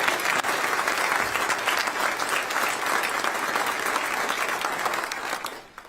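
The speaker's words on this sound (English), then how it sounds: "Let's give them all a round of applause." Audience applause at a military retirement ceremony for a brigadier general, a dense, loud wash of clapping from a crowd sustained for several seconds before tapering off.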